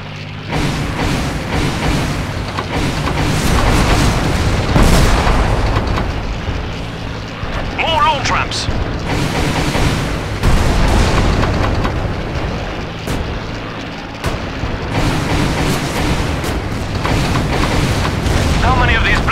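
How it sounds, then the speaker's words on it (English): V-1 rockets roaring past and exploding in the World War II flight game Dogfight 1942, a dense, loud stretch of booming blasts and engine drone that swells repeatedly, with voices talking over it. "Damn, they're launching those bloody rockets!"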